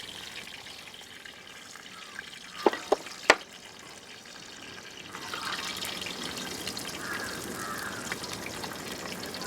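Clams sizzle in oil that is not yet fully hot while a Kerala-style clam fry is cooked, giving a soft, steady hiss with a few sharp pops and clicks that grows fuller and louder toward the end.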